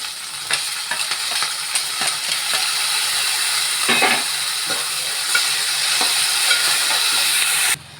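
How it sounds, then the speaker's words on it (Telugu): Onions, green chilies, curry leaves and tomatoes frying in hot oil make a steady, close hiss and sizzle, with scattered light stirring scrapes and clinks throughout before it cuts off abruptly at the end. "ఇప్పుడు ఉల్లిపాయలు వేగుతుండగానే కరివేపాకు వేసేసుకుందాం దాంతోపాటు టమాటాలు కూడా వేసేసుకుందాం"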